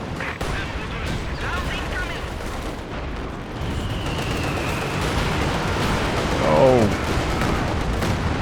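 Mortar and artillery fire in a Company of Heroes 2 multiplayer battle, with repeated booming shots and crackling gunfire layered over a constant dense battle din, while a voice talks over it.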